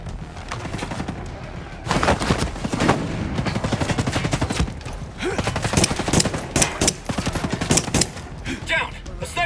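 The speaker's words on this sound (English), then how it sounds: "Incoming sniper fire!" Gunfire in Tom Clancy's Ghost Recon Breakpoint rattles in loud, sustained automatic bursts, briefly pausing and then resuming, with rifle shots mixed in and voices speaking between volleys.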